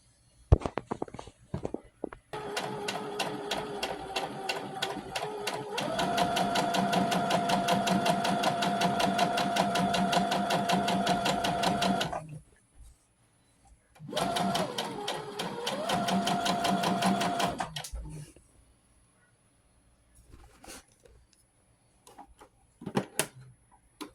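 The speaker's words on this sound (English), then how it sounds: "So now I'm going to start sewing." A sewing machine stitching fabric for a tote bag: close, steady mechanical whirring in two long runs separated by a pause, with scattered clicks and handling sounds in between and at the end.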